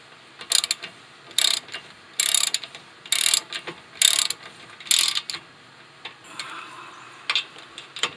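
A hand ratchet clicks in short repeated bursts while tightening the front brake caliper bracket bolts on a 2011–2017 Toyota Sienna, loud and close, with brief pauses between strokes.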